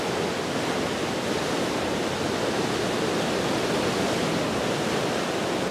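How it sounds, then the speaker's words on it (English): Floodwater from the swollen Ping River in Chom Thong roars through lifted sluice gates, a loud, steady, broadband rush that stays unbroken and close throughout. "These sluice gates are lifted and allowing the water to pass through unhindered"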